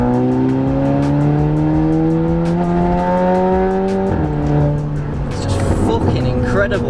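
Audi TT MK2 2.0 TFSI with a straight-pipe exhaust and DSG gearbox, heard from inside the cabin with windows up: loud, droning engine and exhaust note rising steadily under acceleration, then a shift and rough rasp near the end.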